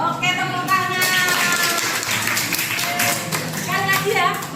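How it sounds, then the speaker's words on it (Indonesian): A group of children clapping their hands in a classroom, a flurry of sharp, uneven claps running throughout, close and lively, mixed with overlapping young voices. "Oke, tepuk tangan."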